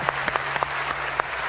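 Applause from an audience at a Tech Park Talks technology conference, a steady wash of clapping with a few sharper claps standing out, moderately loud with a faint hum underneath.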